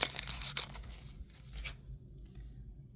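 Packaging around a set of vinyl die cut stickers being torn open up close, a few quick ripping and crinkling bursts that fade into quiet rustling.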